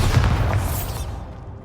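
A Bombarda explosion spell in Hogwarts Legacy goes off as a single heavy, booming blast with a low rumbling burst that decays over about a second, alone without talk.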